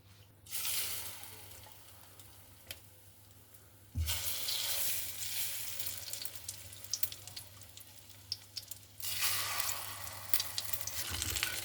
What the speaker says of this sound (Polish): teraz przystąpimy do ich smażenia